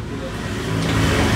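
A motorcycle that would not start for about three weeks and was suspected of needing a new ECU fires up after repair, its engine catching and settling into a steady, close, loud idle that swells slightly midway.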